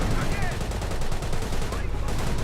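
Rapid gunfire bursts from a tank and a Panzerfaust rattle continuously in a Company of Heroes battle, dense and steady throughout.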